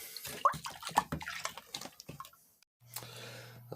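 Laundry detergent stirred into water in a bathtub, close sloshing and swishing strokes in quick irregular bursts, then a brief pause and a faint steady hum.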